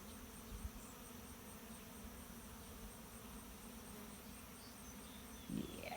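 Honeybees buzz steadily around a backyard hive as a quiet, even drone, with a short louder rustle near the end and no speech.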